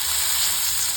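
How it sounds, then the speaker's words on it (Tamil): Grated coconut fries in a pan with a loud, steady sizzle, a close, even hiss throughout. "ஜஸ்ட் இந்த தேங்காய்லாம் கொஞ்சம் ப்ரௌன் ஆகிற வரைக்கும் நம்ம வறுத்தோம்னா போதும்."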